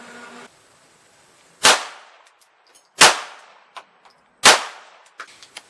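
Three unsuppressed .22LR rifle shots with Remington Subsonic ammunition, evenly spaced about 1.4 seconds apart, each a sharp loud crack with a short decaying tail, plus a few faint clinks between them.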